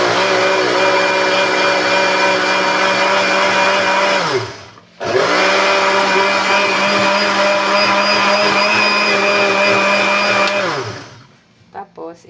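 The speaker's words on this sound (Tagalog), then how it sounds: "Hindi po lahat yan mabiblender kasi maliit lang ang blender natin." A small kitchen blender whirs loudly with malunggay (moringa) leaves inside, running steadily for several seconds, winding down briefly, then starting again before a second spin-down.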